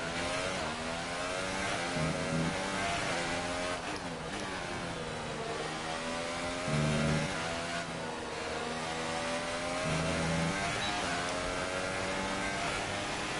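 Formula 1 race car engines in the F1 2018 video game, with cars on track during a career-mode race, howl at a steady high pitch. The revs shift up and down with gear changes, loud and continuous throughout, with no talking.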